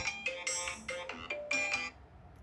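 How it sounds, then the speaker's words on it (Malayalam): A phone ringtone plays a repeating melodic pattern of bright electronic tones, several short bursts in a row, then stops. "ആ ഫോൺ എടുത്ത കൊച്ചേ"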